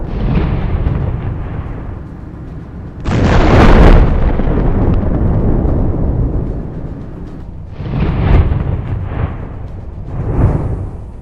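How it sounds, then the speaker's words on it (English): An anti-tank missile strikes a tank in a combat setting, a heavy booming blast that swells and rumbles for several seconds, followed by further dull rolling detonations. "The first missile hits the target."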